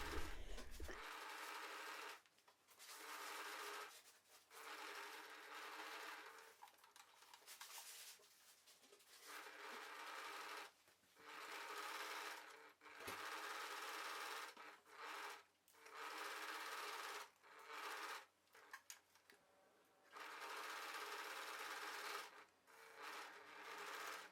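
Sewing machine stitches the hem of a fabric wrap skirt in repeated bursts of fast whirring runs separated by short pauses, close and clear, with no talking.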